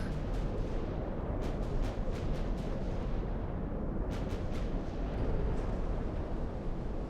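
A torpedo strikes a warship in the naval battle game Ultimate Admiral: Dreadnoughts, a dull, rumbling explosion rolling under constant heavy battle noise, with scattered sharp distant gunfire cracks around it.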